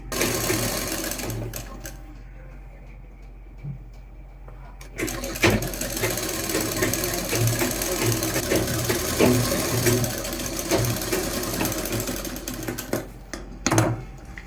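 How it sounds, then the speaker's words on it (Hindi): A sewing machine runs a steady rapid stitch along the lining seam of a kurta, close and moderately loud, pausing briefly near the start, then a continuous mechanical whir with faint clicks. "इसके बाद में हम यहाँ पर 1/4 की पूरी सिलाई लगा देंगे।"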